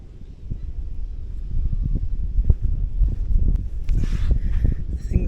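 Strong gusting wind buffets the microphone outdoors on Fuerteventura in the Canary Islands, a continuous loud low rumble that swells and surges throughout, with brief higher rushes near the end.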